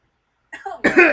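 A single close, harsh cough, with a short rough throat sound just before it.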